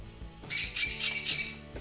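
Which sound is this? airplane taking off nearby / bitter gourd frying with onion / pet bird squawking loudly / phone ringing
pet bird squawking loudly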